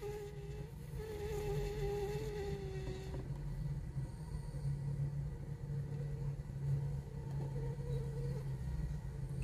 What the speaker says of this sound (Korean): 모기가 집에 비집고 들어올 때 이렇게 들어오는 거죠?